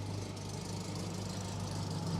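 Car engine idling steadily with an exhaust leak, a continuous low rumble with a strong low hum and broadband hiss, close and alone.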